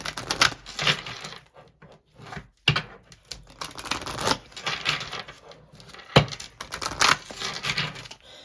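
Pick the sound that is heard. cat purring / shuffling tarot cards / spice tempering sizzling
shuffling tarot cards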